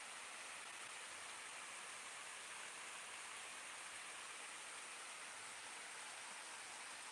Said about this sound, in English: Now this is the sound of water.